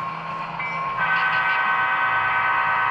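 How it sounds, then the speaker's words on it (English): The horn on a model logging train sounds a sustained, fairly loud tonal blast that swells after the first second and holds steady, with no voices. "There we go, blasting the horn right on."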